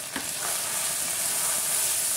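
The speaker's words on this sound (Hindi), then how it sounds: "अब ये मसालों को अच्छी तरह भून लेंगे" Red chili, roasted cumin and roasted coriander powders roasting in a pan, a dense continuous close sizzle with a brief stirring scrape near the start.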